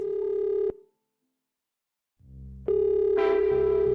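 A steady electronic telephone ring sounds loudly, pauses in near silence, then a lower tone swells in and the ring resumes, joined by a brighter burst.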